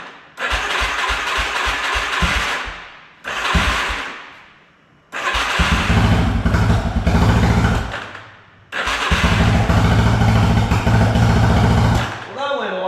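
A GMC roadster pickup engine cranks several times, catches briefly and dies, then starts and runs at a loud, rough idle, stalls again and restarts, close by with no talking over it.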